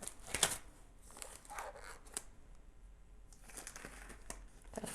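Sticky gloves, coated in tacky jeweler's clay resin, peel off the hands in a few close, faint crinkling and tearing bursts with quiet pauses between.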